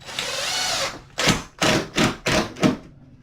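A power drill runs steadily, then drives 1 1/4 inch sheetrock screws through a vanity top into the cabinet in four short, close bursts, each a rising whir ending abruptly, separated by brief pauses.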